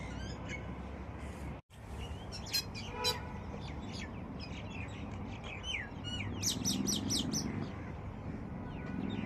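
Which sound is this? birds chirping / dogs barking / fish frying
birds chirping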